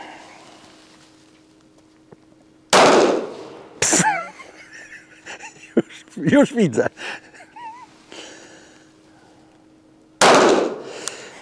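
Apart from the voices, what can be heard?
airsoft pistol shots at a target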